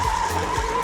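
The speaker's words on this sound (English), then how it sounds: "I think that skidding might just be losing me too much time." Go-kart tires skid briefly on an indoor karting track, a short, close squealing scrub over a buzzing kart engine.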